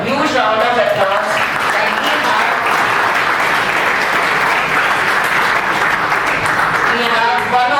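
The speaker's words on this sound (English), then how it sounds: "I think you should give a huge round of applause." An audience breaks into a big round of applause for a gold-medal topper at a library event, dense sustained clapping that holds steady and tapers slightly at the end.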